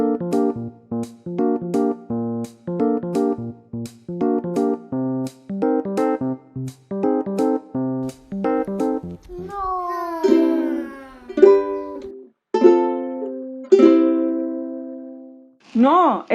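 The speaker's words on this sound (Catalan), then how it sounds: "el que ha sonat és un ukelele" A ukulele plucks a bright, evenly paced run of notes for about nine seconds. Sliding, voice-like tones follow in uneven bursts.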